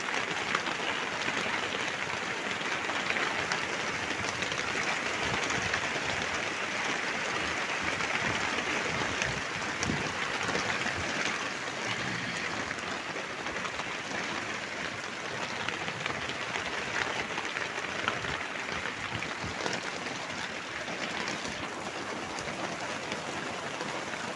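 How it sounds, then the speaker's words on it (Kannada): Steady rain pours down over a village, a dense, even hiss that holds at one level from start to finish with no voices over it. "ಮಳೆ ಬೀಳ್ತಾನೆ ಇದೆ"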